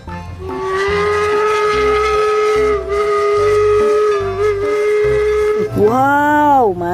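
A toy steam locomotive sounds a loud, sustained whistle tone that holds for several seconds, then dips and swoops back up in a wavering bend near the end.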